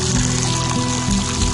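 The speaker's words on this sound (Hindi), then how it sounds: "एक परात में हम दाल मूंग को डाल देंगे और नल खोल लेंगे और अच्छे तरीके से हमने धुलाई करना है दाल मूंग" Tap water runs steadily into a wide tray as split moong dal is washed, a continuous close pouring rush with a faint low hum underneath and no talk.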